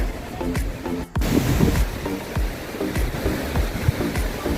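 Sea waves at Chao Lao beach in Chanthaburi, Thailand, wash ashore in the evening, a loud continuous roar with surging swells close by and no talk.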